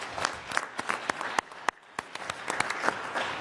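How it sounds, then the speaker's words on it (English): Applause at a city council meeting honouring student athletes, a modest crowd clapping in a loose, uneven patter with distinct individual claps, briefly thinning in the middle before picking back up. "I'd like to give a round of applause"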